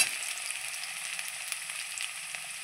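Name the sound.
potatoes being stirred and fried in a pan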